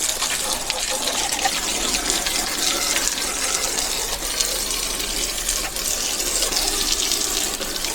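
Water from a garden hose gushing steadily onto raked garden dirt, a continuous close hiss and splash that holds even for the whole stretch, with no pauses.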